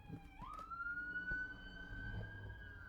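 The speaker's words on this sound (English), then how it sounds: "sorry if you can hear the sirens going off" Emergency siren outside, heard faintly from a distance: a rising wail that climbs and then holds a steady high tone over low background rumble.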